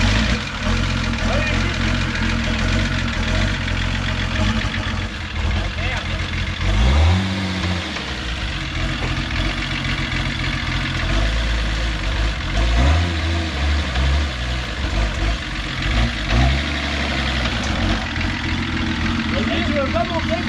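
An old, well-used car engine idles with a low rumble and is revved up a few times, rising and falling close by, while people talk in French over it.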